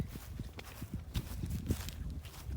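A horse named Cochise walking nearby, its hooves clip-clopping in an uneven rhythm of soft, close thuds over several steps, with faint background noise.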